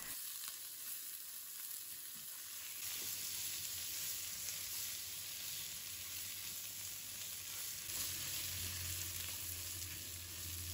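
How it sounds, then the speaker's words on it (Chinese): Napa cabbage stems stir-fried over high heat with shiitake mushrooms in a wok, a steady close sizzle with occasional stirring scrapes and a louder crackle building toward the end. "再加入白菜梗，快速翻炒，炒至变软"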